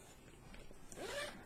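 Zipper on a G.P.S. black powder range bag pulled in one short quick run, a close raspy zip rising in pitch toward the end, quiet and alone.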